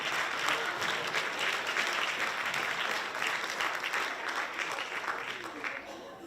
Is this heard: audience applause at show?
yes